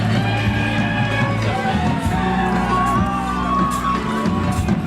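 Crowd at the Pignarulars 2016 entrance event cheering and whooping, a dense loud roar of voices with shouts and what sounds like applause running throughout, with band or horn-like tones under it.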